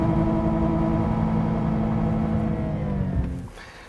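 A car's engine runs steadily and loudly after being shifted into neutral during a runaway-vehicle brake override test, then winds down and fades over the final moments as the vehicle coasts to a stop.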